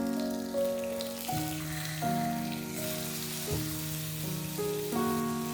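Seer fish pieces with curry leaves fry in a pan, a soft continuous sizzle and crackle sitting beneath louder melodic background music.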